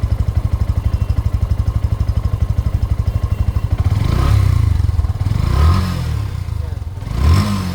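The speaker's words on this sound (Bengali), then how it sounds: "Sorry সাইলেন্সারের sound." A Yamaha FZS version 2 motorcycle exhaust idles with a steady rapid thumping pulse, then revs up a few times with rising, rougher bursts.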